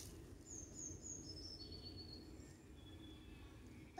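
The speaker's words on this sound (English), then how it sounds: "So Zoe could hear some birds tweeting." Faint, distant birds tweet with a few thin high chirps over a quiet woodland hum.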